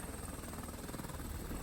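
A helicopter flies over Niagara Falls in Ontario, Canada, giving a faint, steady rotor drone with a fast, even pulsing throughout the brief moment.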